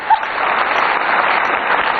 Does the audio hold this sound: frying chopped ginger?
no